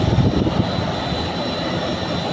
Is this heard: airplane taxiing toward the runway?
yes